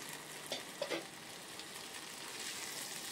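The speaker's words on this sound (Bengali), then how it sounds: "এবার কাজু কিশমিশটা দিয়ে দিলাম।" Cashews and raisins frying in a pan for egg pulao give a steady, moderately loud sizzle, with a few brief stirring clatters near the start and the hiss swelling slightly toward the end.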